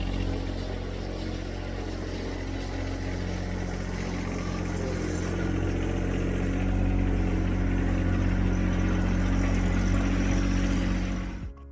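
A tractor engine runs steadily nearby at a garage construction site while the roof peak is built, giving a continuous low rumble that swells slightly and then cuts off at the end.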